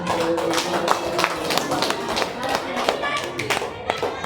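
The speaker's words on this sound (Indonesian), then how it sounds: "tepuk tangan untuk kelompok pinjol" Classroom students clap for a discussion group, uneven scattered handclaps with some taps and thumps, voices chattering underneath throughout.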